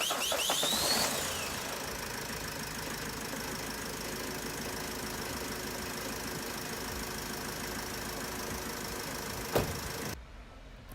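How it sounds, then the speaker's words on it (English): A Renault Trafic MK2 van engine idles steadily just after an oil change, a continuous low mechanical hum with a slight knock, a brief louder burst near the start and a short clunk before it cuts off. "then what you're gonna have to do is start the car. Let it run for 2-3 minutes."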